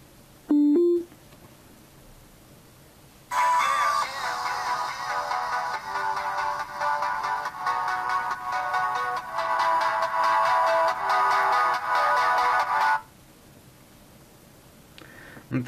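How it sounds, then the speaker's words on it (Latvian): Music plays from a phone's small speaker for roughly ten seconds, thin and steady with a tinny tone, framed by brief clicks and a short tone before it starts. "Un tūlīt klausamies, kā skan telefons."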